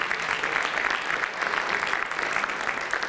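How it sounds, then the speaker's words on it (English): An audience at a Founders Week awards program applauds loudly and continuously, a dense, even wash of many hands clapping with no pauses. "Now give yourselves a round of applause just for showing up."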